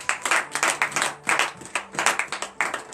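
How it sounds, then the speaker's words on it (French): A church congregation at a morning prayer service in Benin claps together in acclamation, steady rhythmic handclaps in quick bursts, loud and close, with no voices over them. "Donnez l'acclamation à l'Éternel."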